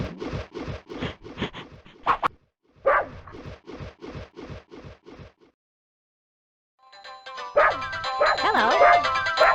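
Puppies barking in a PlayStation video game, a rapid string of close, steady yips and barks, a short pause, then more barking, followed by bright game music and effects.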